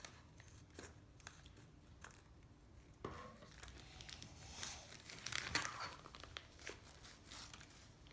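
A plastic piping bag being crinkled, folded and pressed flat, then snipped with scissors while preparing to pipe in a home kitchen, soft close rustling with a few sharper crackles.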